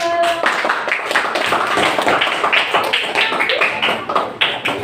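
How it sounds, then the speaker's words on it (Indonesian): Classroom students clapping hands together in a lively, dense patter of claps, close and fairly loud, with voices mixed in among the clapping. "Tepuk tangan untuk"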